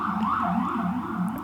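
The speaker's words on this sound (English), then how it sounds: "The ambulance just went by." An ambulance siren wails close by, a loud continuous rising-and-falling tone that sweeps steadily across the whole moment with no talk over it.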